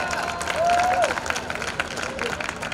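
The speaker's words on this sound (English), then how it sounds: "So again, give yourself a big hand, everybody. Come on, big hand, clap," Crowd at a Peace Cup Winter 2025 event in Los Angeles clapping and cheering, a steady wash of applause with crowd noise, while someone talks over it through an amplified voice.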